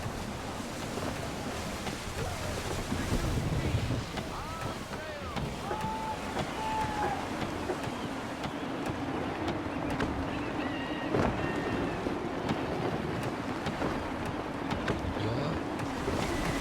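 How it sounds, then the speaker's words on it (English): Steady broadband wind and sea wash roll on without a break around a sailing ship on open water in Assassin's Creed III, with a moderate level throughout and faint tonal game sounds drifting over the top. "Gusty winds can be difficult to manage."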